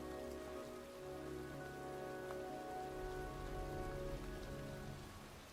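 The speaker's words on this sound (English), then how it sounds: "It's cold. It's raining. I'm standing outside getting soaked." Steady rain falls in the video game Heavy Rain, a continuous wash of drops pattering on surfaces with a low rumble underneath, filling the scene evenly and without any voices.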